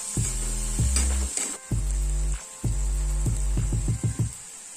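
Onions and green chillies frying in a pan for a spring onion and dry fish curry; a close, steady sizzle carries over repeated rhythmic stirring and scraping strokes against the pan.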